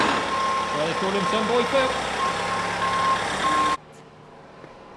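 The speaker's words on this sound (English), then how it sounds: "Oh, we have a lorry." A lorry delivering fertiliser to a farm sounds a steady, evenly spaced run of high reversing beeps over a rumbling diesel engine, with someone talking nearby, before the beeping and engine noise cut off abruptly.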